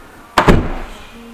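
Side door of a Renault Trafic 4x4 campervan slammed shut, catching on the 35-inch spare tire, giving two quick heavy thuds close by followed by a short rattling ring, with no speech.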